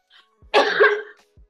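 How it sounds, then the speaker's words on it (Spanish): A single harsh cough, close and loud, preceded and followed by faint breaths and mouth sounds in an otherwise quiet space. "Voy a toser."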